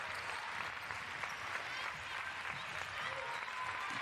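Steady, dense crowd applause fills an arena at a FIBA women's EuroBasket qualifier basketball game between Finland and Slovenia, with a commentator's voice faintly under it.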